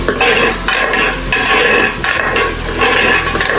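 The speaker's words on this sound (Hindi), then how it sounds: "दो मिनट हमने मसाला भून लिया" Garam masala with turmeric and other spices roasting in a pan for keema karela, a loud, continuous sizzle with scraping stirring strokes, close up and alone, rising and falling in bursts.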